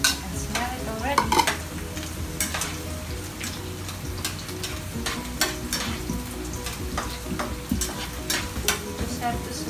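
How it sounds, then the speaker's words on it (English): Chopped garlic sautéing in a pan, a steady sizzle throughout with repeated scraping stirs of a utensil, close and fairly loud, with no talking. "You just have to saute everything and mix it all together inside our pan."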